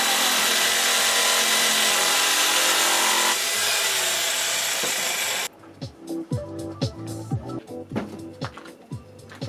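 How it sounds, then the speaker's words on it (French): A jigsaw cutting wood drones loudly for several seconds, then stops, leaving scattered knocks and clatter. "elle a plus le droit de s'amuser avec une scie sauteuse"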